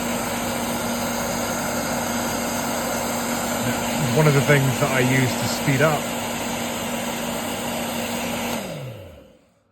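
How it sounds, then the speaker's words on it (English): Hairdryer on its high setting used for drying paint on sandy desert bases for Warhammer 40,000 miniatures, a steady whirring hum running nearly throughout under a brief spoken remark, then switching off and fading out at the end. "you take a hairdryer, turn it on to high setting"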